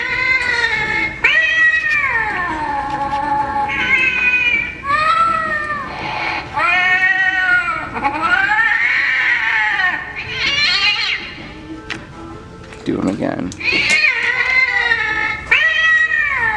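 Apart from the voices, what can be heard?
Target Halloween animatronic cat prop meowing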